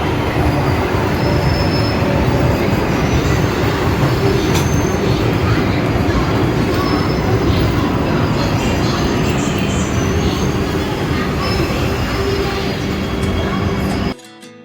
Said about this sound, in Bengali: একদম রাইট টাইমে ট্রেন কটক স্টেশন থেকে ছাড়লো